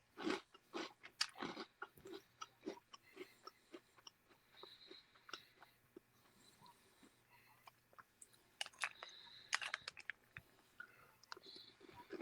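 Close, quiet crunching and chewing of a spoonful of crunchy chocolate cereal with marshmallows and milk, with irregular crisp bites and soft mouth clicks over several seconds.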